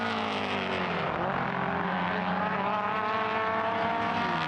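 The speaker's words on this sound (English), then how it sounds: "Listen to the engine notes, Peter." Several high-revving Alfa Romeo racing engines, 4-cylinder 2-litre and 1750 units, race at Imola, a dense, continuous layered engine roar with shifting pitches as cars pass close by.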